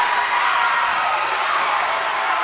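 Crowd noise fills a basketball gym during a girls varsity high school game, a steady wash of cheering and chatter that stays loud and even throughout.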